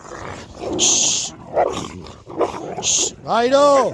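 Dogs scuffling over a puppy, with bursts of growling and snarling up close, broken by sharp yelps and a shouted call as people talk over the commotion.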